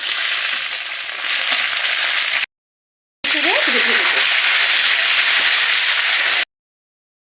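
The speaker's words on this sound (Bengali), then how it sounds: "দুটো টমেটো কেটে নিয়েছিলাম, আমি টমেটো দুটো দিয়ে ভেজে নিচ্ছি।" Two chopped tomatoes fry with ginger in a pan for a vegetable dal, giving a steady loud sizzle broken by a short silent gap, with occasional faint stirring underneath.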